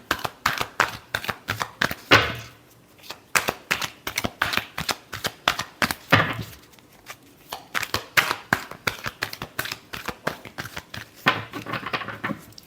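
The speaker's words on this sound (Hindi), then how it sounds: "Last shuffle." Tarot cards are shuffled by hand in a series of quick crisp riffles and flicks, close and fairly soft, in rhythmic bursts with short gaps.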